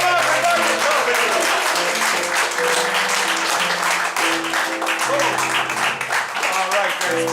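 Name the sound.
audience applauding cast entering stage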